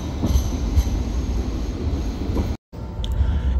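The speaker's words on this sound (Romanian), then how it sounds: "E ok cu tramvaiul, doar că merge prea încet." A Sydney tram rolls slowly along its tracks with a steady rumble, soft wheel clatter and a faint high squeal. Occasional thumps stand out, and the sound cuts out briefly before resuming.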